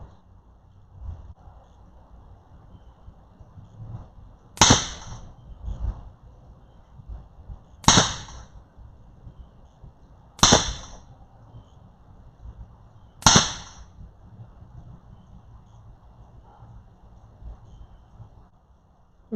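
An Edgun Leshiy 2 air rifle fitted with the original Mod 50 moderator fires four sharp, evenly spaced shots, each a crisp crack with a short tail over a quiet background.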